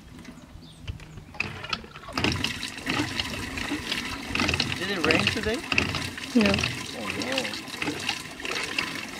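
Water splashes and trickles onto the ground around banana plants in uneven bursts, close by, while a person talks over it.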